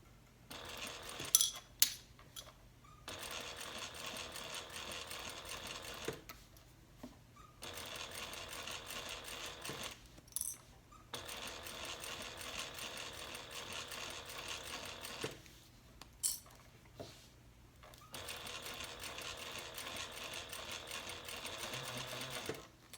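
A sewing machine stitches a handbag slip pocket at a long stitch length in several bursts of steady whirring, separated by short pauses and sharp clicks.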